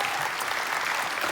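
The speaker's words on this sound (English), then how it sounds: "Eastern Hills, you get ready to clap." A church congregation at Eastern Hills claps together in a dense, steady burst of applause that fills the room at close range, with no let-up across the moment.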